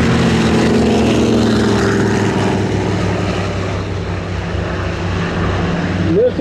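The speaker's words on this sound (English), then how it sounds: "Here comes that C-45 again. We'll listen to the engines." Twin-engine propeller warbird, a C-45, drones loudly and steadily overhead at a warbird flying showcase, a deep throbbing roar that slowly shifts in pitch as the plane passes.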